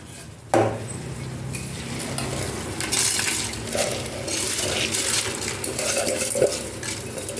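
Rice for vegetable biryani is stirred in a pan after a sharp metallic clank at the start. Continuous scraping and gentle clattering of utensils follow close by, with no speech.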